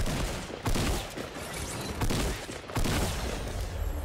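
Gunfire rattles in a Fortnite battle match, a dense run of sharp shots and bursts that stays fairly close and busy throughout, with no clear pauses.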